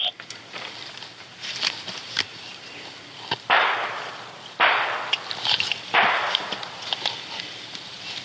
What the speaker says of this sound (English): Baker 1, we have more gunshots going off.